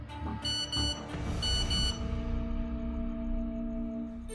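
Phone message notification tone in a Hindi crime drama scene, bright repeated short beeps followed by a sustained ringing tone that slowly fades, with no talking over it.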